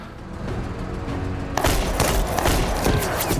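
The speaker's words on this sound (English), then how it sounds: "I think we use grenade launcher" A grenade launcher fires in a tactical video game. A low rumbling bed gives way to a sudden loud boom, followed by repeated heavy thumps and crackling bursts close by.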